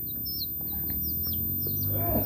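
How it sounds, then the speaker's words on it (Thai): Motherless baby chicks in a garden give a few faint, high-pitched peeps scattered over a low background hum. "ไก่น้อยนี่"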